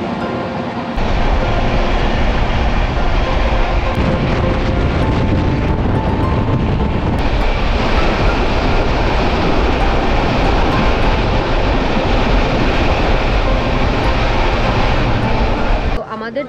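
Loud, steady rumble of a passenger train running toward Burdwan in West Bengal, continuous and close for the whole stretch with a brief shift partway through.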